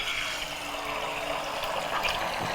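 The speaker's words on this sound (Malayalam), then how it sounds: "ഈ 4 മുട്ട ഞാൻ ഈ ചൂട് എണ്ണയിലേക്ക് അങ്ങോട്ട് ഒഴിക്കുകയാണ്" Four eggs are poured into hot oil for an egg stir fry, giving a steady, close sizzle and hiss that holds evenly, with no talking.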